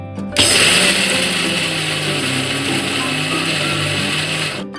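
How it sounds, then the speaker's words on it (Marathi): Mixer grinder whirring steadily at high speed, crushing chillies, cumin and coriander for a spicy gavar bhaji, loud and continuous for about four seconds before cutting off. "आता आपण छान हे मिश्रण बारीक करून घेऊया"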